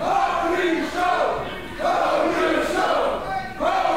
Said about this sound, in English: the crowd is chanting for the Holy Show